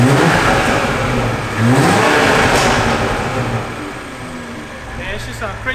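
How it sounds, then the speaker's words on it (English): A tuned BMW M340i in sport mode revs hard, its engine roar rising and falling in loud, close surges, with crackles near the end and people talking over it. "I just heard revving and popping"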